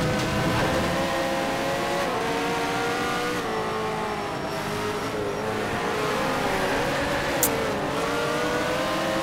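Race car engine from the video game Need for Speed Shift 2 Unleashed, holding a steady loud high-pitched whine with shifting revs and pitch sweeps throughout, plus one brief sharp impact near the end.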